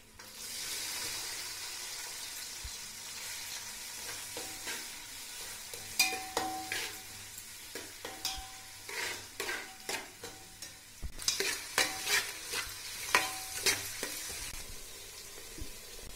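Half a kilo of lengthwise-sliced onions and seven green chillies fry in oil for chicken biryani, giving a steady close sizzle broken by repeated scraping and clicking stirs, with no talk.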